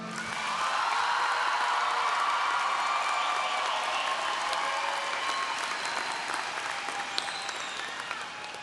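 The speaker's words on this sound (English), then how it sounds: "Give yourselves a round of applause." A large audience at a college commencement claps and applauds steadily for several seconds, a dense, loud wash of clapping that fades slightly toward the end.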